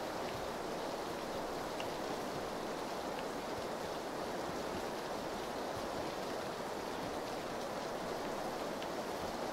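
Heavy rain pours outdoors as a dense, steady, broadband hiss that never lets up, close and loud, with no voices over it.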